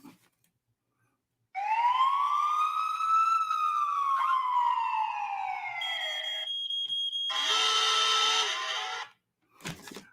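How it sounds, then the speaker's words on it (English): A loud police siren wails in long sliding tones, then switches to a harsher, buzzing electronic alarm pattern before cutting off. No one speaks. "I don't like the police alarm though."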